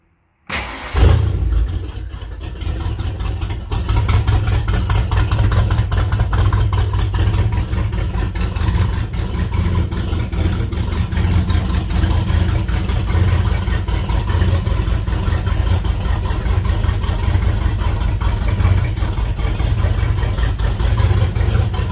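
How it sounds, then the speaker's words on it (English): A Factory Five Shelby Cobra replica engine cranks and catches on a cold start with a loud burst, then settles into a steady, rumbling idle that runs on alone for about twenty seconds. "That's a cold start."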